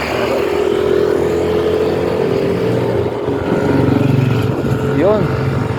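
A nearby motorcycle engine drones steadily with a slight rise in revs, mixed with road noise while a person talks over it.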